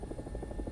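A helicopter in the War Thunder video game hovers as it steadies, with a continuous rhythmic rotor chop pulsing several times a second, steady and close, with no talk over it.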